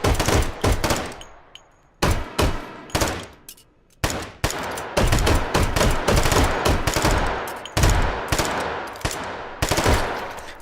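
M1911 A1 pistol firing in the video game H3VR, a rapid string of loud, sharp gunshots, each with a short echoing tail, fired in quick bursts with brief gaps, close and dominant, with no voices.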